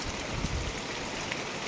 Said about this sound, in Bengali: বৃষ্টি লেগেছে সকাল থেকে, সেই বৃষ্টি পড়ছে।